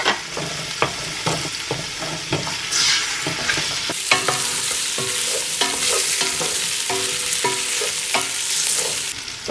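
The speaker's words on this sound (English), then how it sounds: "go ahead and add the oxtail. I'm going to saute that for a couple of minutes." Oxtail sautéing with softened onions in a pot for Filipino kare-kare: a loud, continuous sizzle close by, broken by frequent scraping and clacking stirs of the utensil, with no talking.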